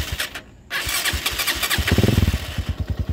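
A Honda TMX125 Alpha motorcycle converted to 200cc fires up on its push-button starter with a brief crank, then settles into a close, thumping single-cylinder idle with a steady rapid pulse.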